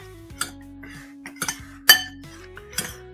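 Seasoning of salt, pepper and garlic mixed in a bowl with a utensil, giving a handful of sharp close clinks and taps against the bowl in an uneven rhythm, with no talking.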